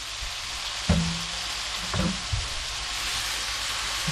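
Minced onion dropped into hot butter in a pan for trout fish cakes sizzles steadily, with a few louder bursts of crackle as the onion lands and is stirred, close and alone without speech.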